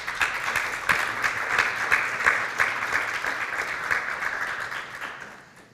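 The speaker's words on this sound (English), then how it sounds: "Please give them a great hand of applause." Audience at a panel discussion on international trade regulation applauds the panelists, a dense, steady wash of many hands clapping that holds for several seconds, then thins and fades at the end.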